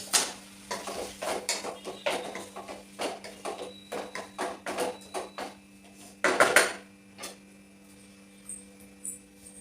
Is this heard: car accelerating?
no